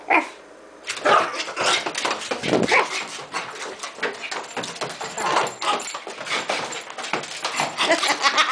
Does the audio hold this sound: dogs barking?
yes